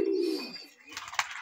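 A male pigeon, a long-sized cross with feathered feet, coos once in a low throaty call up close, followed by faint rustling.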